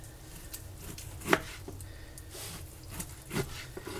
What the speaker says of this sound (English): I'm just chunking it up to make it easier to put in the food processor.